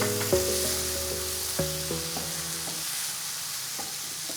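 Prawns stirred into a masala in a pan for a chemmeen molly, with a steady broadband sizzle and a few faint scraping knocks of stirring near the start, with no talk.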